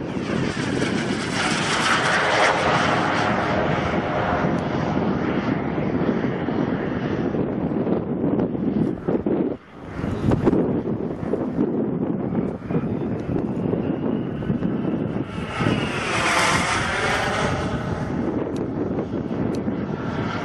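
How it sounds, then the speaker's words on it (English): Heavy wind of about 20 knots buffets the camera microphone in a continuous loud roar, with a brief dip partway through, over a field where a boomerang is flown. "Right now the wind is around 20 knot. It's heavy wind, you can feel it in the video camera."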